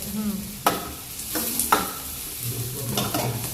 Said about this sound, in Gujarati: એવી રીતે જરીક વાર બ્રાઉન કરવાની હા થોડુંક બ્રાઉન કરવાનું હવે આ કેપ્સિકમ નાખી દઉં